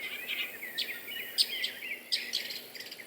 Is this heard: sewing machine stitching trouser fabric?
no